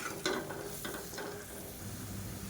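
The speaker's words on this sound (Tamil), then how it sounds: "இப்போ மீடியம் ஃப்ளேமில் அதை வதக்கி விட்டுக்கலாம்." Masala sautéing over a medium flame for a pea and potato kulambu, with a brief spatula scrape and knock, then a low, steady sizzle, fairly quiet throughout.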